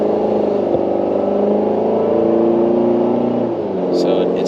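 Chevy Silverado 4-cylinder engine accelerating, a steady droning hum from inside the cab with a slight rise in pitch, fairly loud and continuous.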